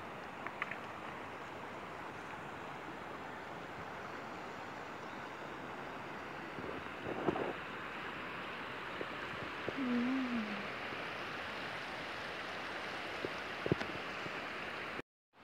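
Outdoors by the Lagben River at a laundry spot, a faint steady rush of flowing water and wind, with a few soft knocks and a brief distant bird call.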